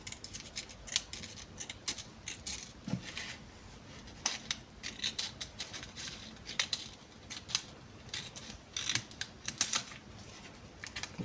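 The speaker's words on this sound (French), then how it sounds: "on va couper au ciseau un petit millimètre" Scissors snip a millimetre off paper for a handmade Christmas accordion mini scrapbook album, giving a close run of quick, crisp cuts in an uneven rhythm with short pauses between.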